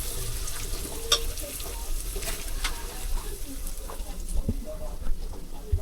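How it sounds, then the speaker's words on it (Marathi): Spice masala fries in a pan with a soft, steady sizzle and occasional stirring scrapes, fairly close. "आता तो थोडा फ्राय करून घेऊया लाल होईपर्यंत"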